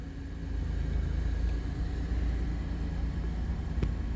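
A car idles steadily after the ignition key is turned on, a low continuous engine rumble that holds even throughout, with a faint click near the end.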